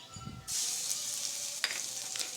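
Fenugreek seeds and curry leaves drop into hot oil for a village-style Maharashtrian curd kadhi, bursting into a sudden loud sizzle that keeps crackling close up, with a brief stir partway through.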